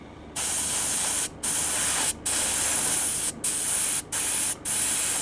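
An airbrush sprays fine pearlescent glitter paint onto a fishing lure, a steady close hiss broken by five brief sputtering stops and restarts.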